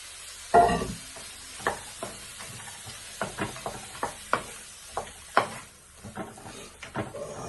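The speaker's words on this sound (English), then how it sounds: "Then we're gonna add these mixed vegetables in as well." Mixed vegetables tipped into a pan and stirred, a string of sharp scraping and clattering utensil strokes with a soft sizzle beneath, close and fairly quiet, no one talking.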